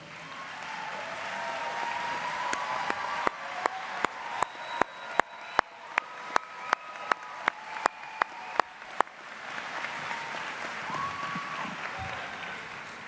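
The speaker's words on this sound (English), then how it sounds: "So our students can give you a big round of applause." Audience at a St. Thomas University commencement ceremony applauding in a large hall, a sustained wash of clapping with sharp regular claps standing out in the middle, then fading toward the end.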